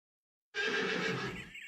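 A horse lets out a single loud, close whinny that breaks out of silence and holds for over a second before tapering, with nothing else heard alongside it.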